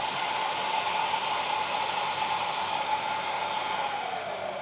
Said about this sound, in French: mon aspirateur il est connecté avec ma machine, donc l'aspirateur s'allume de temps en temps